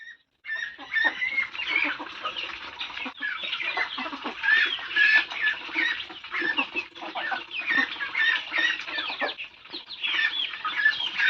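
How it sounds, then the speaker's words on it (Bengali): Chickens cluck and squawk on and off at close range outdoors, a busy, uneven chorus of overlapping calls with no talk. "মুরগিগুলো আবার চেঁচামেচি শুরু করেছে"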